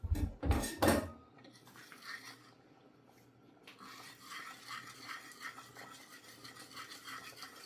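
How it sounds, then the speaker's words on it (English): A spoon scrapes and stirs inside a pot as cheese melts into milk, with a few louder clanks at the start and then a steady, soft swirling and scraping texture running on alone. "And you keep stirring."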